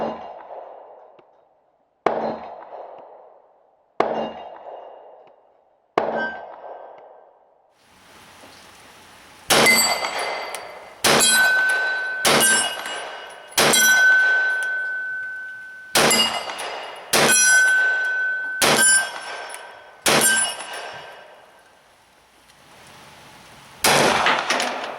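Beretta Cx4 carbine in .45 ACP firing at steel targets: four spaced single shots, then a rapid run of loud cracks with bright metallic rings from hit steel, ending in a final shot, outdoors with no talk.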